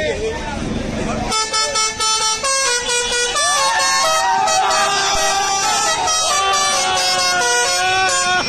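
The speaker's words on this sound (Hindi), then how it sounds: "ट्रैफिक जाम करके लोग हॉर्न बजाने को लगा रहे" Many car horns honk at once in heavy traffic, overlapping long blasts and short toots that keep going without a break, loud and close.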